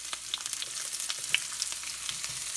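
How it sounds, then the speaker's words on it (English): Onions sizzle in a pan for canned corned beef, a soft, even frying hiss with small crackles and pops, close and steady, with no talking. "We're gonna start putting our onions in."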